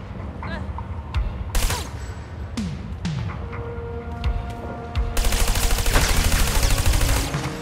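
Gunfire from the video game Trials of the Blue Dragon: loud, close shots and sharp thumps in scattered bursts, building into a dense rapid volley of automatic fire over the last few seconds, with game sound underneath.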